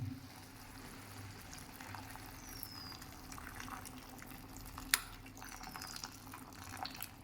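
Hot water is poured into a pot of mutton achari curry, a low steady trickle and splash with faint kitchen clatter and one sharp clink partway through.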